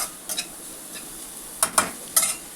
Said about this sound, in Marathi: 1 मिनिटभर असं छान परतायचं.